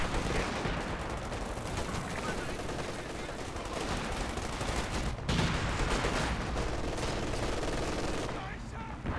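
Dense, continuous battlefield gunfire from Company of Heroes 2, with Sherman tanks and an ISU carrying machine-gun upgrades firing steady automatic bursts over explosions and rumble, loud and sustained throughout, with a faint voice underneath.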